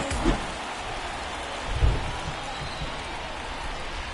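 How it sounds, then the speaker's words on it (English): Rain falls during a game of MLB 24 baseball as a steady, moderate hiss through the whole stretch, broken by a couple of soft low thumps. "It feels like we might be headed towards a rain delay if the weather doesn't ease up, Chris."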